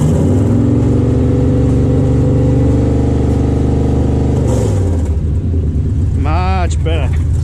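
A Holden Commodore engine, its spark plugs just cleaned after misfiring and backfiring, runs loud and close with a smooth revving drone that drops off near the end, while a voice speaks over it.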